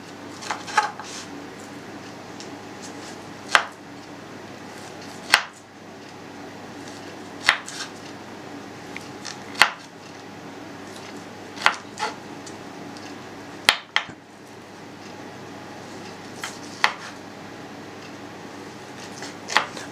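A knife chops chilled pork fat into small cubes on a board for Bologna sausage, giving sharp, irregular taps spread over about twenty seconds above a quiet kitchen background, close and moderately soft.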